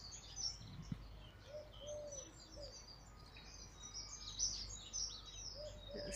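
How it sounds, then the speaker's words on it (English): Little sparrows chirp and tweet in trees, faint and somewhat distant, with scattered short calls and a few soft dove-like coos over quiet outdoor ambience. "Birds in the trees up there."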